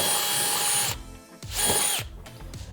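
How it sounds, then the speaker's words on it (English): A power drill bores a hole in a boat splash guard. It gives loud, close, high whining bursts, with a long run first and then two shorter pulses. "now that we've got that hole drilled,"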